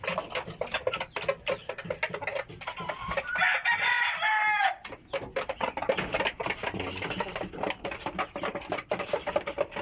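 Shamo and native chickens on a breeding farm, with repeated clucking and scratching sounds and one longer crow in the middle, moderately close and fairly quiet.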